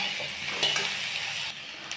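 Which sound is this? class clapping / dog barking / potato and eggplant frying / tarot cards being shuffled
potato and eggplant frying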